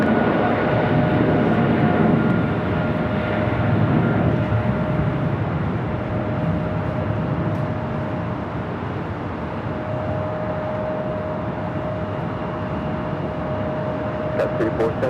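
An American Airlines Boeing 777 airliner at LAX airport gives a steady, loud jet roar that holds for the whole stretch, with a faint whine running through it and no talk.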